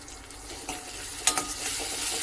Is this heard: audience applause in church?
no